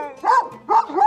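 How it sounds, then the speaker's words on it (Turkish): An Akbash shepherd dog gives three quick, deep barks close by, each a short burst, with no talk. "çok iyi bir akbaş çoban köpeği"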